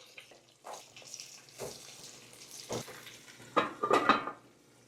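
Garlic and ginger fry in a pan for chili sauce, giving soft bursts of sizzle and stirring scrapes that swell into a louder, crackling spit near the end, close and without talk.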